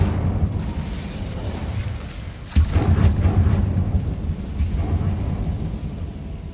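Incendio fire spell cast in a Harry Potter video game, a sudden burst with a low whooshing rumble that lingers and fades, over a steady ambient background with a voice nearby.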